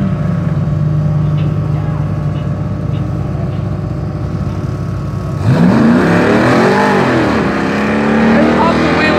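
A Jeep truck launches hard in a drag race at Utica Rome Speedway. A steady engine drone gives way midway to a loud, close roar that climbs sharply in pitch through several upshifts.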